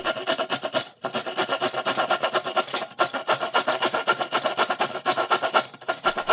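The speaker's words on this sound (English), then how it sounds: "will it saw drywall?" A restored, once-rusty drywall saw cuts through drywall in quick, even back-and-forth rasping strokes, close and loud, with two brief pauses in the rhythm.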